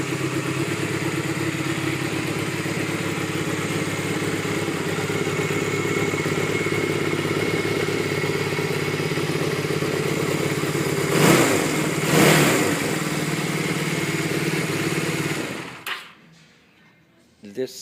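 A 2006 Honda CB250 Nitehawk motorcycle idles steadily up close, then two quick throttle blips rev the engine before it shuts off into near silence.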